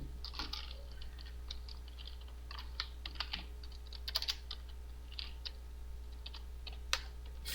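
Light, scattered keystrokes tap on a computer keyboard while a password is typed at a command prompt, quiet and close against a low steady hum, with irregular clicks and short pauses.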